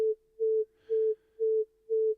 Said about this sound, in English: There's our tone in AU Gen X.